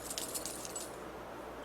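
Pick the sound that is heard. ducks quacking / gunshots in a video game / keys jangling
keys jangling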